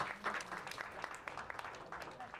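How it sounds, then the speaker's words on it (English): A small group claps at a speed networking meetup, a brief patter of scattered hands that is fairly faint, with some voices mixed in. "Round of applause for Harrison."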